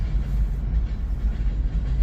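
A CSX freight train led by four locomotives rolls past near Emerson, Georgia, a steady, heavy low rumble of wheels and cars with no break.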